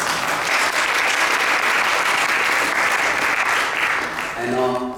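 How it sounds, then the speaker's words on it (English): Sustained audience applause fills an auditorium at an Ayurveda conference, a dense wash of many hands clapping steadily and loudly, with a voice starting to speak as it fades near the end. "So give her a big round of applause"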